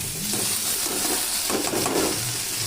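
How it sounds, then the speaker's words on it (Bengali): Chopped tomatoes go into onions frying in oil in a pan, with a steady close sizzle and light stirring and scraping against the pan, and no talking. "দেখো টমেটো দিয়ে দিলাম।"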